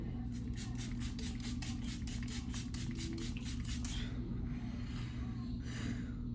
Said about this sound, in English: I just gotta spray my setting spray.